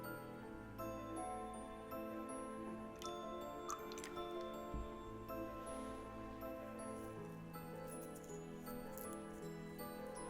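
Water trickles and drips onto a snowman being shaped, with small irregular splashes and ticks over a steady, faint background hum.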